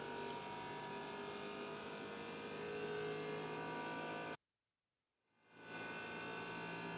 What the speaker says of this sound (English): it's doing the vibration. Sounds like a jet plane.